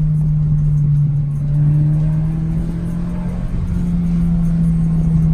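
A 2016 Scion FRS fitted with Godspeed coilovers pulls hard through a test run, its engine holding a loud, steady drone that climbs slightly in pitch.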